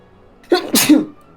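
A single sharp sneeze, close and fairly loud, with a short inhale leading into the burst and quiet on either side.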